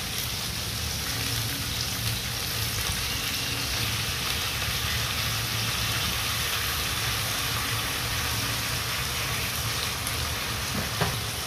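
Soy sauce hitting a hot pan of frying pancit bihon gives a steady, close hiss and sizzle with crackling texture that holds evenly throughout, with no talking.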